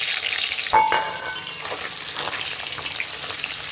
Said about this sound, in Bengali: ঢাকনা দিয়ে আগিয়ে করে আড়াল করে মাছের মাথাগুলো দিয়ে দেব।